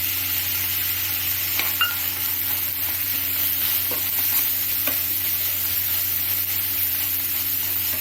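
Turmeric powder frying in a hot pan for pudina rice, a continuous loud sizzle with light stirring scrapes and a few faint clinks, steady for the whole stretch with no voices.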